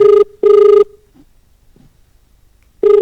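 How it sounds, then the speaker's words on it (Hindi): An outgoing phone call produces a ringback tone of two steady, loud, close purring rings. A long silent gap follows before a third ring begins. "पूनम बल्लभ साहब को फोन लगाया गया है,"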